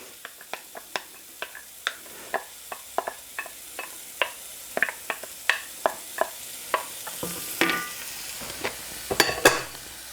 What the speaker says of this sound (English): Allow the vegetables to saute for 4 to 5 minutes. And I've got them all mixing up in the olive oil and the butter,